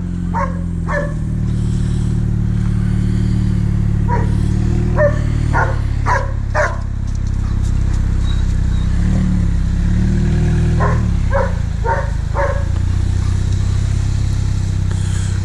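Sharp dog barks come in quick clusters of three or four over the loud, low idling rumble of a car that has not moved in a long time, with pauses between bursts.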